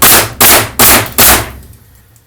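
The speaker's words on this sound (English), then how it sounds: "So in contact fire mode, all you have to do is push down and it'll fire." A Max Superframer SN883RH2 pneumatic framing nailer in contact fire mode drives four nails in quick, even succession, each a loud sharp pneumatic bang about every 0.4 seconds, followed by a brief decaying tail.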